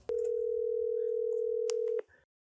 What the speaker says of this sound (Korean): 당사자한테 전화를 한번 걸어보도록 하겠습니다